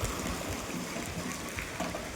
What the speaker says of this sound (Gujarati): પાણી પડે છે ઉપરથી.